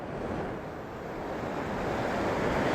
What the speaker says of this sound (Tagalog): Nakakatakot ang alon mga chong.